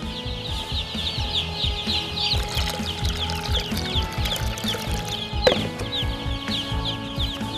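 A dense flock of poultry on a chicken farm raising chicks keeps up continuous overlapping clucks and calls, with one brief sharp clatter partway through.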